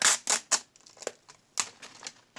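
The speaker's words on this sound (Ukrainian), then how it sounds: "давайте відкривати пакетик." A small paper surprise packet is torn and rustled open by hand, several sharp crinkling rips in quick bursts separated by brief pauses, close and clear with no talking.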